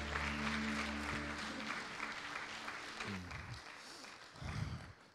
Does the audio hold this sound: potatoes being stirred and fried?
no